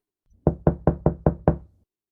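Six firm, evenly spaced knocks rap on the wooden door of a small house near the woods, close and crisp in quick steady rhythm with silence before and after.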